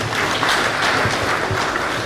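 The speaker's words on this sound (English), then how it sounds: "Let's give him a round of applause." An audience in a university lecture hall applauds after an in-house lecture, a dense, even clapping that fills the room for the whole stretch.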